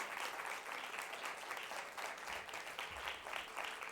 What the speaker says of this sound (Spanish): Este aplauso, Alicia, es para vos